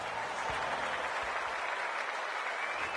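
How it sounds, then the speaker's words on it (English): Steady stadium crowd roar and applause from the AFL 26 video game fills a Hawthorn versus Brisbane Lions match at the Gabba as the captains meet, a dense wash of cheering with a couple of low thumps early on. "The crowd already making plenty of noise as the captains come together."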